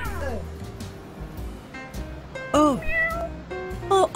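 A cat meows several times in a video game, drawn-out rising and falling cries near the close, while game sounds and a voice talk underneath.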